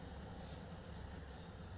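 A Class 150 diesel train arriving at a station in Train Sim World 5, a continuous rolling rumble of wheels and engine, moderately loud and steady over a brief span.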